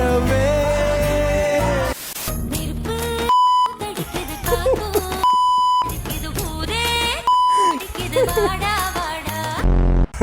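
Censor beeps cut in several times over a song: steady single-pitched tones, each lasting about half a second, that abruptly replace the music and vocals.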